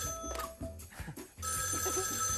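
A studio telephone on a children's TV show rings in a steady electronic trill that starts partway through and continues, preceded by clattering knocks and background bustle.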